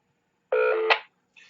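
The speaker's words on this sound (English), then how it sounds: "and then you heard the courtesy tone that I use." An EchoLink radio node courtesy tone on a Kenwood TM-D710 chirps once, a steady multi-pitched beep ending in a brief higher blip, followed by a faint trailing tone.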